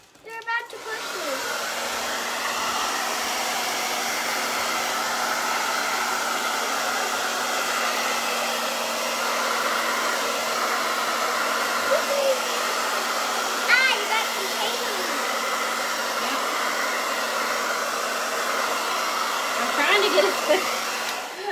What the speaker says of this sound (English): we're gonna use the hair dryer